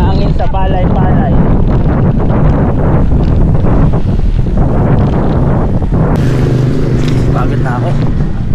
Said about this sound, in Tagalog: Mahangin sa palay-palay.